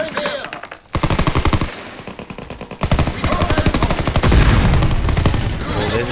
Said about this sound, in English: This is a really competitive SMG too.